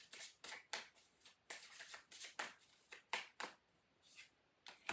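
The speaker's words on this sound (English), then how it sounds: "Let me get you your Awaken Oracle cards" Awaken Oracle cards for a tarot reading are shuffled by hand in about a dozen quick, crisp riffling bursts, soft and close in a quiet room.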